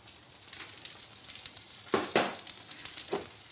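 Tomatoes sizzle in garlic oil, a steady frying hiss broken by a few louder scraping tosses of the pan around the middle and near the end, close and with no talk.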